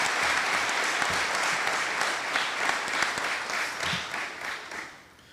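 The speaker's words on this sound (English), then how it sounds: "Could we please give her one more round of applause for a great job?" Sustained applause from an audience at a military-school cadet cresting ceremony, a steady wash of many hands clapping that holds for several seconds before tapering off at the end.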